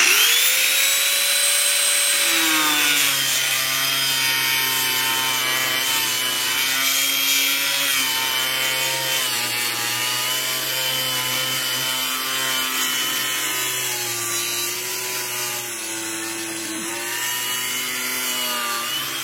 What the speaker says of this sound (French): normalement on coupe pas une planche comme ça à la disqueuse